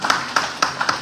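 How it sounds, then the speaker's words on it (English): About five sharp hand claps ring out at an uneven pace at a Kenyan diaspora Mashujaa Day event in France, loud and close in a reverberant room, sounding more like a single person clapping than a full audience. "I think that is something that we should be clapping for"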